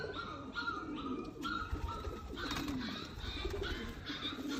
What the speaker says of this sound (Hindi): बिल्कुल ब्रांड हालत का प्योर चपड़ा कबूतर